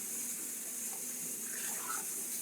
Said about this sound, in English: The water is actually hot, which is why I turned this cold water on as well.